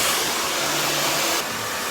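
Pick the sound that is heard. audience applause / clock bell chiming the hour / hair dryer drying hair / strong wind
hair dryer drying hair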